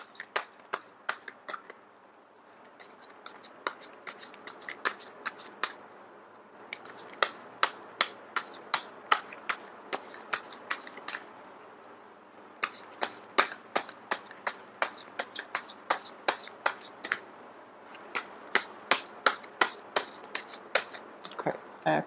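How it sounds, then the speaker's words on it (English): A deck of cards being shuffled by hand for a tarot-style reading, giving repeated sharp snapping riffles in bursts with short pauses, close and fairly quiet, faint soft voice in the background. "I am going to shuffle until the first card drops out"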